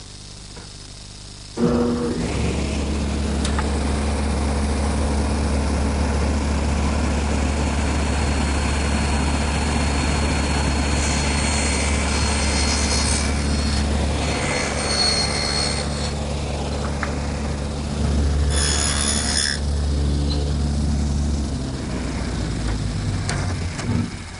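A table saw with its blade tilted starts up and runs with a steady, loud whine as it cuts dados in a woodworking shop. The blade note shifts a few times during the cuts, then the motor winds down at the end.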